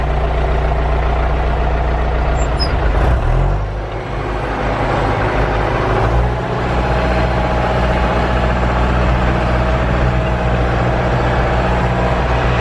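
Tractor engine running steadily at a low idle-like drone throughout, close and continuous, with a brief dip in level around a few seconds in while spreading sweet corn fertilizer.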